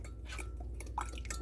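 A spoon stirs honey into half a cup of warm water, with faint clinks and small liquid sloshes against the cup, quiet and close over a low steady hum.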